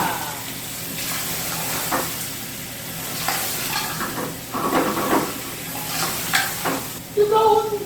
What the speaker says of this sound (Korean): 물과 기름이 합쳐지면 자동으로 불이 붙게 있어요